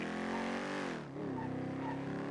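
Engine of a slow A-class scout car in the game NoPixel strains through a corner taken too fast, its steady drone dipping briefly mid-turn before climbing back to a constant loud hum.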